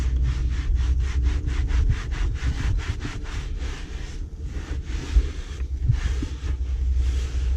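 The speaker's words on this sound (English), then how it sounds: "Microfiber towel, wipe it up." A microfiber towel wipes the polished skin of a 1960s Beechcraft Bonanza V-Tail, a steady run of rhythmic rubbing strokes, close and even, with light wind noise underneath.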